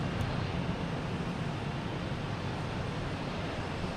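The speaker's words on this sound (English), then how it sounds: "ITA taking off, heading to Rome" An ITA Airways airliner takes off from Boston Logan bound for Rome, a steady, broad engine roar holding at an even level throughout, heard from a distance with no voices.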